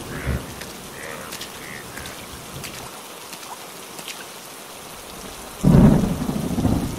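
Heavy rain pours steadily in a Bengali cartoon, with a low thunder rumble swelling near the end.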